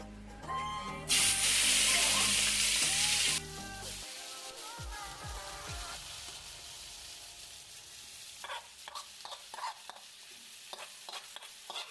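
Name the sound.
meat frying in oil in a kadai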